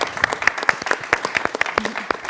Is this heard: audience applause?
yes